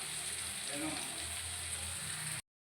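Fish sizzling in hot oil as a fish fry cooks, a steady close crackling hiss that runs without a break and stops abruptly at the end.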